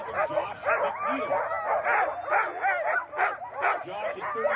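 Sled dogs bark, yip and whine excitedly at the start of the Kuskokwim 300 sled dog race in Alaska, a dense continuous chorus of many dogs close by, with a voice faintly under it.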